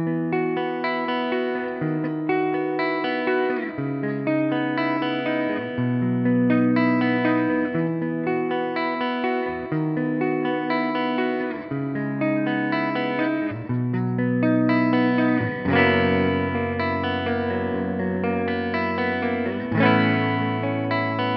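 A Gibson SG Standard electric guitar on its neck pickup plays ringing chords and notes through an effects unit with some distortion and chorus, steady and alone with no voices.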